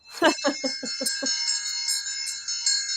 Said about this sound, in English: Maybe we should ring a bell on that too.